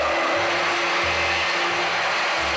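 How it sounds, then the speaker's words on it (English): A hand immersion blender purees lamb ragù sauce in a pot, giving a loud, continuous motor whir with a churning, gurgling undertone that pulses as the blade moves through the sauce, alone with no talk. "just with your hand immersion blender, we're just going to puree it"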